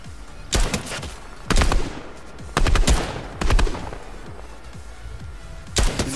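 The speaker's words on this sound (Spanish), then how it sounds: "Pero le está disparando a alguien." Automatic gunfire in the video game Fortnite, four loud bursts of rapid shots spaced about a second apart, sharp and close with short echoing tails.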